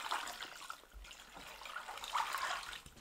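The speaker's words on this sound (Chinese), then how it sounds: "再倒水洗掉血沫" Water is poured over blanched beef ribs to rinse off blood foam, a faint close trickle and splash with uneven surges over three seconds and no talking.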